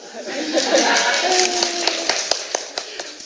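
An audience at a Jo Malone CBE speech event gives a few scattered, light claps, soft and irregular over a low murmur and some chuckling.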